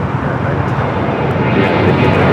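A jet airliner at Los Angeles LAX airport gives a loud, steady broadband roar, close and continuous, with no clear break throughout.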